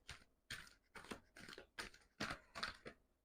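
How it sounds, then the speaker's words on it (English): Tarot cards being shuffled after the deck is split into two halves, giving about eight quick riffling bursts in a steady rhythm, close and fairly quiet, with no talking. "I'm going to divide it into two parts and then shuffle."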